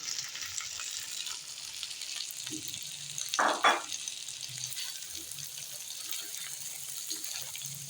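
Fried potatoes dropped into sizzling masala in a pan and stirred for dum aloo, a soft continuous sizzle with brief louder scraping bursts in the middle, no talk.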